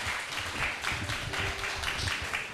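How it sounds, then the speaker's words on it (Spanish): Applause for a children's home run by religious sisters and lay helpers, a moderate patter of clapping with a low murmur of voices underneath, steady and fairly close for a couple of seconds. "Un aplauso a este hogar"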